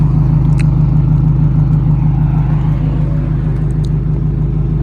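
A Scion tC car engine runs at a steady idle, a loud, close, continuous low rumble with an even pulse throughout and a few faint clicks on top.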